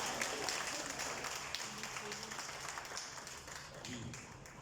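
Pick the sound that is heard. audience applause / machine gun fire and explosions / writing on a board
audience applause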